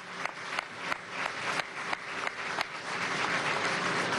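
Applause at an official inauguration of a specialized container terminal at the Port of La Guaira, with steady group clapping that swells and becomes denser toward the end, heard alone.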